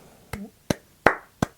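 Four separate sharp hand claps, spaced evenly apart, close and fairly loud with quiet gaps between them.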